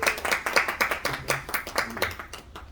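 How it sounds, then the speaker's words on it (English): A small audience claps for a magician being introduced, with distinct, fairly close hand claps in an uneven rhythm that thin out toward the end. "Give a round of applause for Scott."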